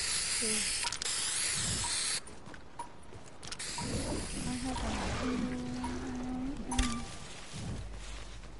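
Spray hissing in a PS4 video game, a loud burst of hiss at the start that drops away, followed by softer game sounds while people talk.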